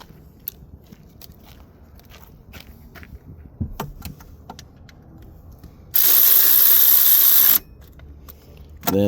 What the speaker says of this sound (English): Right, electric ratchet.